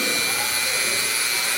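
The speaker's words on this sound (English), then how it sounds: "See this little fan?" A small electric fan runs close by during carving work on a carousel horse, giving a steady, even whir of airy noise with no breaks.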